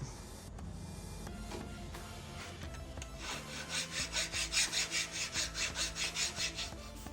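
Rhythmic rasping of a file dressing burrs and high spots off a Willys Jeep gasket surface, starting as soft scraping and building into steady back-and-forth strokes about twice a second, close by and moderately quiet.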